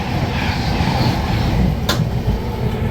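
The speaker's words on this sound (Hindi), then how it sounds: "यहाँ पर एक क्रॉसिंग हुई है, शायद से सीमांचल एक्सप्रेस है" A passing train heard from inside the moving Rajdhani Express, a loud steady rumble and rattle with faint clickety-clack and a sharp bang near the end as the trains cross.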